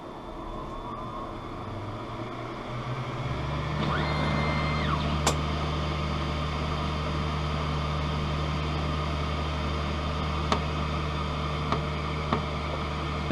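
An optical lens edger hums steadily and loudly as it measures and cuts a lens, with a low motor drone that builds after a few seconds, a brief whine and a few sharp clicks over the continuous running.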